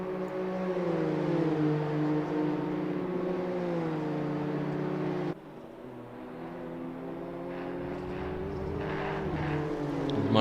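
Race cars at full throttle in an M2 sprint race at Oulton, several engines droning loudly together with steady harmonic tones that rise and fall as they pass, ending with a louder surge as one nears.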